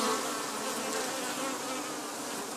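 Honey bees buzzing inside a hive brood nest, a dense, steady, close swarm hum that holds evenly throughout with no voices.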